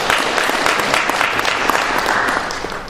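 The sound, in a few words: conference audience applause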